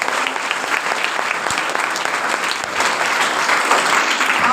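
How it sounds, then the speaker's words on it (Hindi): Parents and guests in a school hall applaud a class presentation with dense, loud, continuous clapping that holds steady for several seconds and swells slightly toward the end. "आप लोगों के लिए तालियां बनती है।"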